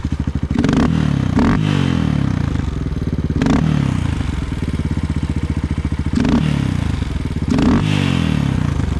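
A Suzuki DR 200 motorcycle engine runs after a carburetor adjustment, loud and close, with a rough, chugging idle broken by several quick throttle blips and clattering rattles.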